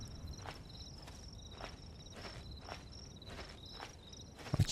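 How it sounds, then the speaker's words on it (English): Regular footsteps in the video game Rust, soft rhythmic steps at an even walking pace beneath a constant chirping insect ambience, fairly quiet, ending in a short louder rustle, no talk. "Maybe he hears my footsteps."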